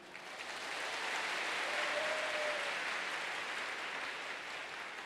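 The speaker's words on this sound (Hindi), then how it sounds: "जोरदार ताली दो।" A church congregation at an annual fasting prayer meeting claps loudly. The thick, steady applause swells in, holds evenly for several seconds, then eases slightly.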